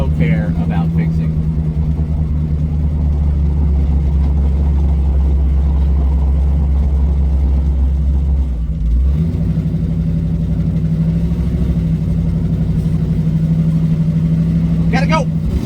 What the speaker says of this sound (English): We got a horrible exhaust leak that I have no care about fixing.